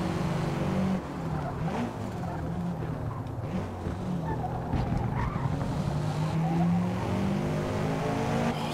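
A V8 race car in Forza Motorsport revs and pulls hard out of a corner, its engine note rising and wavering with faint tyre squeal, steady and fairly quiet throughout.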